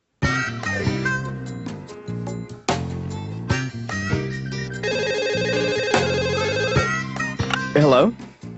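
A telephone rings in a cartoon scene, a loud, close bell-like trill repeating steadily for several seconds with no one speaking over it.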